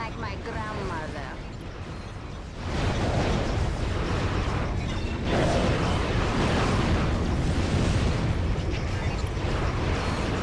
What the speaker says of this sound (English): Oh, the explosions, the gunfire, the carnage.